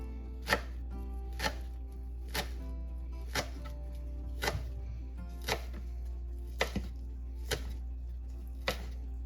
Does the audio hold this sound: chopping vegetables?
yes